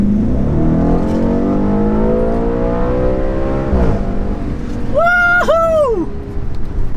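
An Audi S5 or RS5 accelerates hard with a loud close engine roar rising in pitch through the gears, then a brief dip and a sharp high rev burst near the end.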